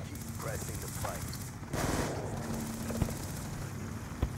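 Black Ops 2 multiplayer gunfire, a sustained rattle of in-game shots with a couple of sharper single cracks, moderately loud under a player talking.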